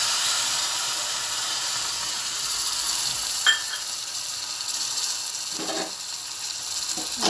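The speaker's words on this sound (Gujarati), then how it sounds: "રાઈ ગરમ થઈ ગઈ છે, હવે જીરું નાખશું। હવે હિંગ નાખશું। આદુ મરચાંની પેસ્ટ છે એ નાખશું।" Cumin, asafoetida and ginger-chili paste sizzle steadily in hot oil with mustard seeds, a constant close frying hiss with a brief clink and stirring scrape partway through.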